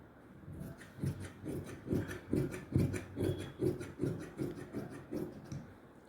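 Extra fabric being cut while making palazzo pants: a steady series of rough, rasping cutting strokes at an even rhythm, close and fairly quiet, with no talking.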